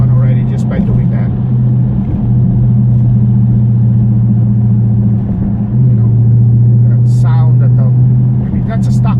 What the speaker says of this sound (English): the exhaust sound from that 392 Hemi